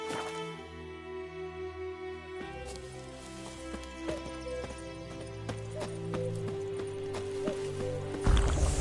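Hooves clip-clop as the horse Roach gallops in The Witcher 3, a rhythmic beat under game music with sustained tones and a loud burst at the end.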